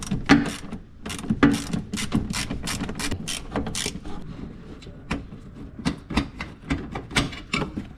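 A ratchet loosening 10mm and 8mm headlight bolts on a Nissan Titan, quick bursts of sharp clicking ratchet strokes close up, with short pauses between runs and no talk.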